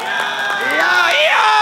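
A crowd at a Gameball Royale event cheering and whooping loudly and continuously, with shouting voices rising in pitch over a dense wash of noise.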